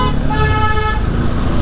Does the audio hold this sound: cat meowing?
no